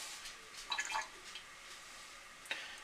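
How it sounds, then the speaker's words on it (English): Water drains from a pot of cooked rice held slightly open, producing faint, close drips and light trickling splashes over a soft hiss. "drain as much water out as you can without losing rice"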